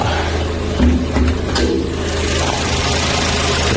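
A 2010 GM Daewoo Lacetti Premiere engine with 130,000 km idles steadily, heard up close in the engine bay with a low, even hum and slight vibration, broken by a few faint clicks.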